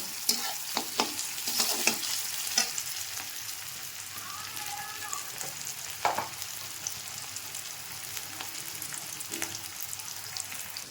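Jackfruit masala with green chillies frying in a pan as it is stirred: a steady close sizzle broken by repeated scraping and clattering stir strokes.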